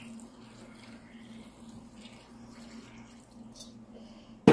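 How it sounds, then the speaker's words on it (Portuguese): Water pours into a glass jar packed with Japanese cucumbers, coriander and bay leaf for a pickle preserve, a faint, steady trickle with a low hum underneath and a sharp knock at the very end. "Bora lá, por água."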